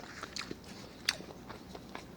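Close, crunchy bites and chewing on a smothered pork chop with small bones, a few sharp biting crunches and softer mastication sounds alone over a short span.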